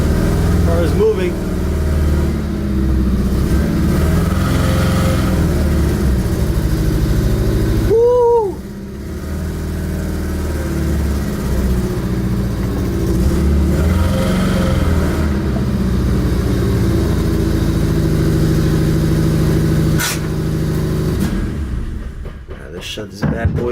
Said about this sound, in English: Car is moving.